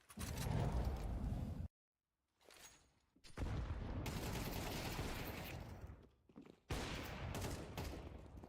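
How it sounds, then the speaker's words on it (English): Rapid bursts of automatic gunfire from a Counter-Strike match come in dense volleys, broken by brief silences and a few quieter shots. "That is a ridiculous shot from Red Zed"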